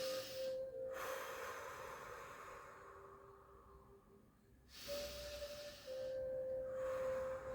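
Slow, deep breathing during a relaxation exercise, close and audible, with long hissing inhales and exhales that rise and fall over several seconds.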